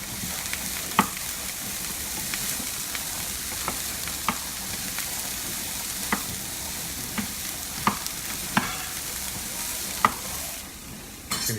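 Chickpeas browning in a dry pan without oil while being stirred, a constant dry sizzle punctuated by regular sharp scrapes and taps of the spoon, close and steady, with no voices.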